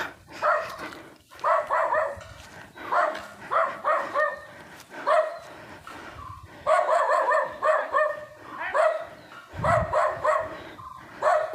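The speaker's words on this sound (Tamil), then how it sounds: "கடிக்கிற நாய்கள் இருக்குது அப்படின்னு சொன்னாங்க" Dogs in a hilltop village bark repeatedly at fairly close range, with rapid yapping volleys, brief pauses and a few whimpers mixed in, and no one speaking.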